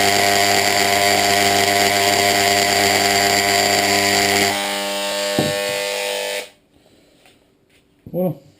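A rotary engraving tool whines with a loud, steady high-pitched buzz as it is pressed harder into thick glass, its pitch shifting midway before it stops, followed by a brief voice.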